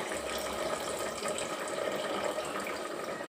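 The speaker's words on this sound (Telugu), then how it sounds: "చింతపండు పులుసు వేసుకోవాలి." Tamarind juice poured into a potato and broad bean curry, a soft continuous liquid splash and trickle at low volume that stops abruptly at the end.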